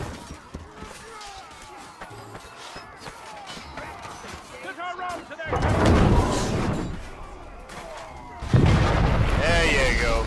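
Catapult and ballista launches in a video game produce heavy, booming thuds and crashing impacts. A quieter stretch of scattered knocks is followed by two loud bursts, with a voice talking faintly underneath.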